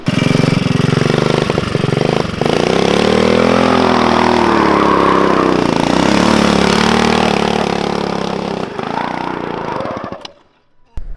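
A Tao Tao Arrow 420cc buggy engine revs hard and loud nearby, pitch rising and falling through sustained high revs before cutting out abruptly near the end.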